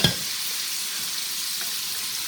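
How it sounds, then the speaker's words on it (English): Onions, red and green peppers and mushrooms sauteing in a pan on a Rec Tec pellet grill, giving a steady close sizzle throughout after a brief clatter at the start. "I'm just going to do a light saute on these"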